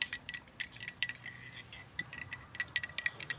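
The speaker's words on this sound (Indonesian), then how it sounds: "Aduk sampai benar-benar larut." A spoon stirs salt into water to dissolve it, giving quick, light clinks and taps against the container in an irregular run, close and fairly quiet, with no talking.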